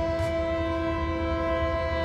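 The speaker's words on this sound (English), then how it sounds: "let the train pass" A train's horn blows as a single sustained, steady, loud blast over the continuous rumble of the passing train.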